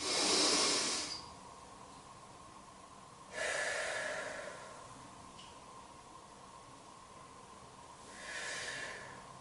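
Slow, audible breaths during a shoulder rehab exercise, three distinct inhales and exhales spaced a few seconds apart, close and fairly quiet, without speech.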